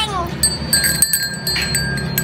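A small bell on a farm sheep rings in several quick, bright jingles close by, with a bleating animal near the start.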